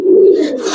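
Giribaz and coloring pigeons on a farm give a single close, low throaty coo, a sustained warbling call with no one talking.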